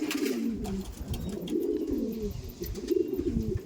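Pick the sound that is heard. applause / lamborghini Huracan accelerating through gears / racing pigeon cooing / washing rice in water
racing pigeon cooing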